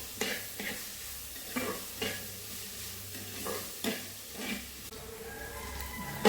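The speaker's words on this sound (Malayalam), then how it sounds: "അപ്പോൾ ഇതിലേക്ക് കുറച്ച് ഉപ്പും കൂടെ ചേർത്തിട്ട് ഞാനിത് നന്നായി ഇളക്കി കൊടുക്കുന്നുണ്ട്" Onions fry with salt in a pan for a cauliflower gravy, a constant low sizzle broken by regular scraping stirs about every half second to second, close and clear.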